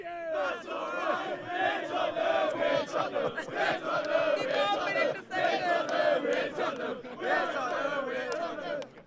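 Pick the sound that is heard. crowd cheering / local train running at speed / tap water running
crowd cheering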